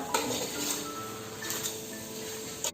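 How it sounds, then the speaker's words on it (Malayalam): A utensil stirs chopped tomatoes in a cooking pot for vegetable biryani, making soft scrapes and light metallic clinks against the pot, quiet and close, with no talking. "ഇനി ഒരു 2 തക്കാളി ചേർത്ത് കൊടുക്കാം. നന്നായിട്ട് അങ്ങോട്ട് വഴച്ചെടുക്കാം."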